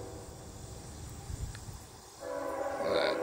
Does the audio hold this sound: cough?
no